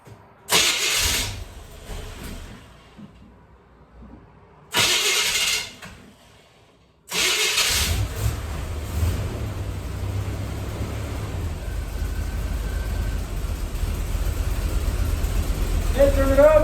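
A Corvette engine with a Turbo 400 automatic transmission cranks in two short loud bursts, then catches and settles into a steady, loud, close idle that runs on without a break.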